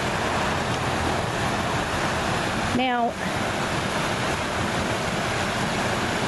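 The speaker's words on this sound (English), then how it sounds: "the water's really running really hard" Hard-running river water at a favorite swimming spot in early spring, a steady broadband rush filling the whole clip, with a brief spoken word cutting in partway through.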